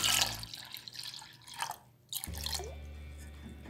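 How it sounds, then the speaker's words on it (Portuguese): Ice-cold water, about 350 ml, is poured from a glass into gelatin in a home kitchen, with a close splashing, trickling pour that breaks briefly before a steadier stream resumes. "nesse copo aqui tem água gelada, então eu vou jogar 350 ml de água gelada"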